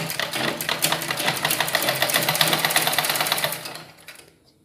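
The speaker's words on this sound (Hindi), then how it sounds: "अब हम ऊपर से एक सिलाई चला लेते हैं इस पर ताकि फिनिशिंग बैठ जाए" A sewing machine runs a topstitch along a suit neckline, a rapid steady mechanical chatter close up for about three and a half seconds before slowing and stopping.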